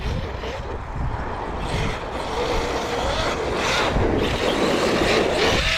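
Traxxas Sledge RC truck fitted with alloy upgrade parts driving around a track with cones and a jump, its electric motor whining steadily and loud throughout, rising and falling with throttle, with rough tyre and gravel noise underneath.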